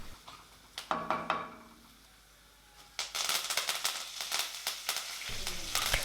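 Curry leaves drop into hot oil for a Tamil manathakkali vathakuzhambu tempering, bursting into sharp crackling sizzle in a short first spurt, a pause, then a louder, sustained spattering fry.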